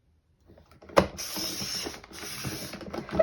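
A scoring cartridge drawn along cardstock on a paper trimmer, a short creaking, grinding mechanical slide lasting about two seconds after a sharp click, close and alone.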